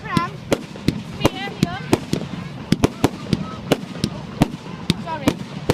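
Fireworks on bonfire night crackle and bang in rapid, irregular sharp bursts with whistling rockets, while people talk nearby.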